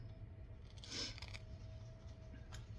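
Small scissors snip through four layers of fabric in a few quiet, crisp cuts, the clearest near the start, with a faint background hum throughout.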